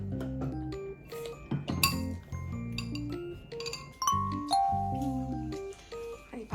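Dishes and cutlery clink and clatter repeatedly over a steady background hum, with several bright chimes of glass or metal close by.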